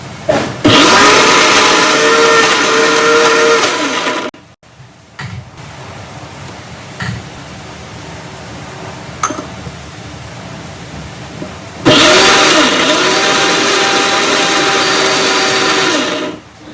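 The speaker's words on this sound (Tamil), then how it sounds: "ஒரு மிக்ஸி கிண்ணத்தில் மாற்றிக்கிட்டு அரைச்சி எடுத்து வச்சுக்கிட்டோங்க." A mixer grinder grinding masala roars loudly for a few seconds, stops with some faint clicks and rattles, then starts up again for another long steady run.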